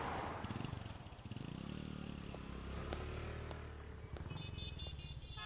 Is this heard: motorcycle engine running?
yes